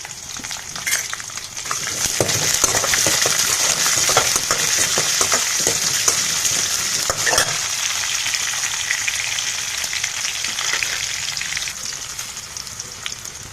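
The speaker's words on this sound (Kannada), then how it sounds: "ಇವಾಗ ಒಂದು ಈರುಳ್ಳಿ ಕಟ್ ಮಾಡ್ಕೊಂಡಿದ್ದೀನಿ, ನೋಡಿ, ಅದು ಹಾಕೋಣ. ಈರುಳ್ಳಿ ಹಾಕಿದ ತಕ್ಷಣ ಸ್ಟವನ್ನು ಹೈ ಫ್ಲೇಮ್ ಮಾಡ್ಕೋಬೋದು." Chopped onion frying in oil on a high flame for lemon rice gives a continuous close sizzle, with scraping and stirring against the pan throughout and no voices.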